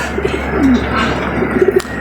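Soft pigeon coos, a low throaty call repeated a few times over steady background hum and faint outdoor noise.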